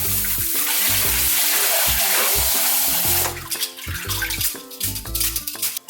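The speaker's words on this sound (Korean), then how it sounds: "이렇게 냉수에다가 차갑게 헹궈 주셔야 더 쫄깃하게 드실 수가 있거든요" Fresh noodles being rinsed in cold water: a steady rush of running water for about three seconds, then broken splashing and sloshing as the noodles are swished, close and fairly loud with no talk.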